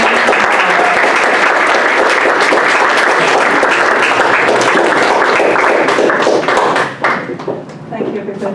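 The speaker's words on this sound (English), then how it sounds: "Round of applause for Carol Ann Moore." Audience applause at a spiritual service, dense sustained clapping from a crowd that fades near the end, loud and close, with a voice speaking briefly over it.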